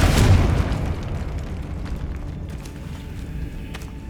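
A single booming blast from the Confringo explosive spell in Hogwarts Legacy on PS5, loud at the onset and then fading into a rumbling tail with faint clicks and creaks.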